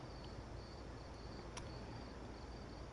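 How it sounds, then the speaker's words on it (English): Crickets chirp at night in the video game Phantasy Star IV, a faint, continuous high trill running steadily with no other sounds. "We hear the crickets"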